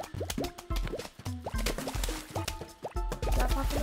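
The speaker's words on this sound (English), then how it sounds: "It's a water noise" Repeated watery plops and drips from Plants vs. Zombies game audio, a steady rhythm of short bubbly pops layered over busy background game music, loud and close throughout.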